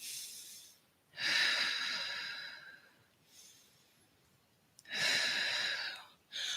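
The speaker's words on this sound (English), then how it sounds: "Practicing those nice long inhales and exhales." Slow, long inhales and exhales during a Pilates strength and conditioning session, heard close and soft as several drawn-out breathy swells with quiet gaps between them and no talking.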